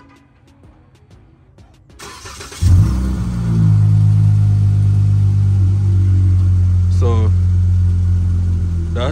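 A car fitted with a Vibrant bottle-style resonator cranks and fires up after a brief spoken word, then settles into a steady, loud, deep rumble with a short rev near the end, recorded up close from outside.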